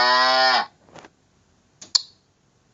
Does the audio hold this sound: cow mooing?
yes